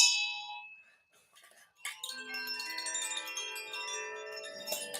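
Bells struck one after another, bright ringing tones that sustain and overlap after a short quiet gap, building into a layered shimmering chime.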